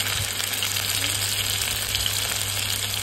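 Chopped tomatoes hit a pan of frying capsicum for masala idli fry, giving a steady, even sizzle and hiss that holds close and continuous for a few seconds, with no voices.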